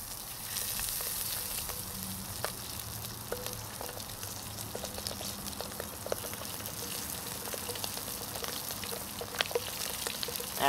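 Bangers sausages fry in leftover bacon grease in a pan, a steady close sizzle with scattered pops and crackles running the whole time, no voices.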